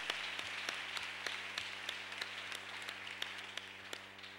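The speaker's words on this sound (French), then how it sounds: "Donnons une main d'acclamation à l'Éternel." A church congregation claps in praise to God during a service, with sharp individual hand claps in a loose, fairly regular rhythm over a low steady hum, moderately quiet and without speech.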